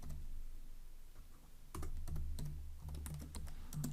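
Typing Kotlin code on a computer keyboard, with a steady run of quiet, close key clicks in an irregular rhythm over a faint background hum.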